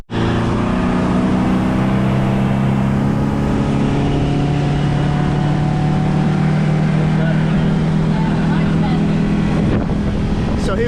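A motorboat engine runs steadily on the water off South Miami, a loud continuous drone with strong wind buffeting the microphone, and voices can be heard under the noise.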